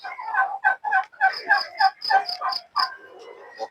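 Backyard chickens clucking and squawking close by in a quick run of short, sharp calls lasting a few seconds.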